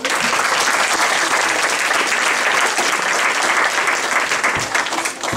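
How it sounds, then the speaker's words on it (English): Audience applause at an evening Martin Luther King honors event in Central Falls, a dense, loud, sustained clapping from a large crowd that tapers slightly at the end. "Another round of applause."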